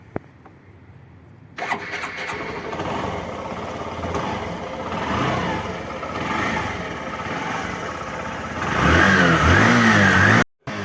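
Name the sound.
Hero Passion Pro motorcycle engine running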